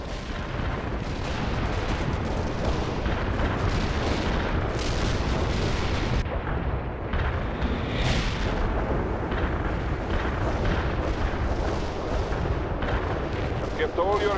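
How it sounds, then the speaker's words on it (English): Dense, continuous rumbling explosions and booming fire from an artillery barrage in World in Conflict, loud and sustained throughout, with no clear gaps between blasts. "Launching a barrage."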